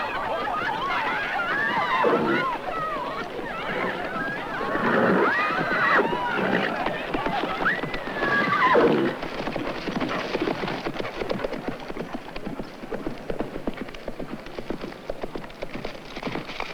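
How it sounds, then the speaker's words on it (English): A troubled, bucking outlaw horse neighs and whinnies loudly in repeated bursts, with hooves clip-clopping and a steady rain-like wash underneath. "This horse is a real outlaw."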